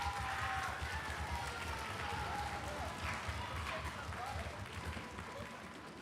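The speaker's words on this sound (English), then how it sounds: "Everyone give these four people a round of applause." Audience at a school grades 6-8 fall orchestra concert applauding, a steady wash of clapping from a crowd heard fairly quietly and continuously with faint murmuring.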